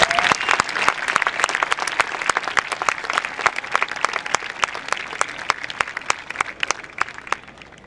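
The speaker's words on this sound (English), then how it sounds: "I'd ask you all to give your teachers, your school, and your community a round of applause" Graduation ceremony audience applauding, a dense, steady wash of many hands clapping at close range for about eight seconds, with no speech over it.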